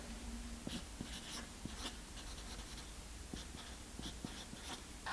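A pen scratches across paper while a message box chart is filled in, with quiet repeated strokes and taps against a steady low room hiss and no talking.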